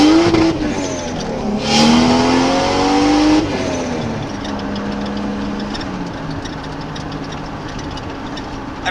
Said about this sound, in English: I'm just out in my Supra,